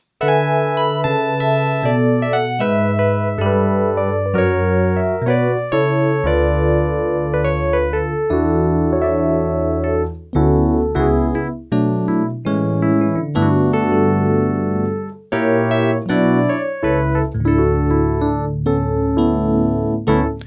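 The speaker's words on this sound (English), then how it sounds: "the most famous instrument that I can think of that uses this type of synthesis, this FM synthesis" A bright Yamaha DX7 FM synthesizer plays a busy, chordal passage with bell-like and bassy tones, loud and continuous for about twenty seconds with no talking.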